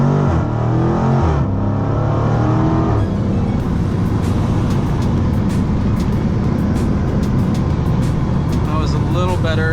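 A Dodge Challenger SRT on a 0-60 run, its engine roaring loud and close as it accelerates hard, with rising gear pulls after a short burst of talk at the start.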